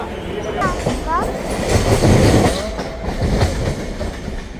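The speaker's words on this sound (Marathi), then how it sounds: "जी कोणती ट्रेन येईल त्या ट्रेनने आपण जाऊया" A Mumbai local train rumbles and clatters nearby with squealing wheels and a busy crowd murmuring, people talking over the noise.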